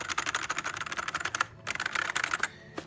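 Rapid, steady keystrokes clatter on an Amazon Basics gaming keyboard, a dense run of close clicks that pauses briefly before resuming.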